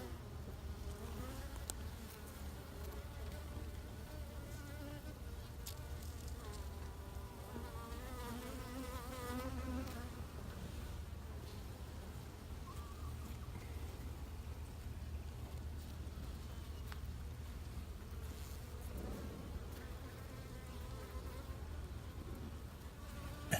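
Honeybees buzz steadily and close up around an open hive full of brood during a spring inspection, a continuous dense drone with individual bees whining past, no talk.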